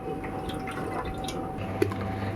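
Water being squeezed out of soaked semolina for idli batter, giving a soft wet trickle and faint dripping, with a single brief splash close by toward the end.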